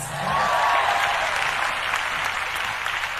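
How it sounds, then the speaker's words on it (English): A church congregation claps for a woman preacher, a steady round of applause rising quickly and holding evenly, with a voice briefly audible at the start. "you should clap for me, sir."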